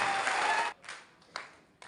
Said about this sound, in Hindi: जोरदार तालियां, जोरदार तालियां के साथ